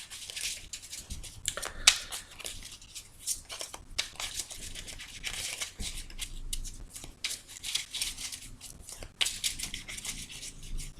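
Tarot cards cut and handled by hand, with soft papery shuffles, crinkles and light taps spread across the span, fairly quiet and close, no talk.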